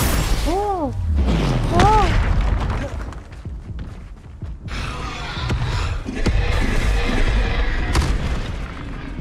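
Bombarda spell explosions in Hogwarts Legacy, heavy booms and rumbling blasts amid combat effects, with a voice talking over the fight.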